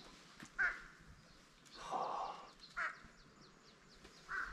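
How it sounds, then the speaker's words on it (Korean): Crows caw over an empty mountain village, four harsh calls spaced about a second apart, faint and somewhat distant against a quiet outdoor background. "까마귀만 그냥 이렇게 올라와"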